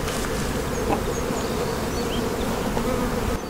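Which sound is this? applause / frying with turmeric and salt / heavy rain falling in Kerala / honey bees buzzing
honey bees buzzing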